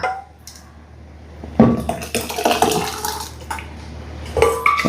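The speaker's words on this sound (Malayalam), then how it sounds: "എന്നിട്ട് നേരെ നമുക്ക് ഈ ചട്ടിയിലേക്ക് ഒഴിച്ച് കൊടുക്കാം കേട്ടോ" Cooked dal poured from a pressure cooker into a clay pot gives a few wet splashes and a clunk of metal on the pot, close and fairly loud, with no talk.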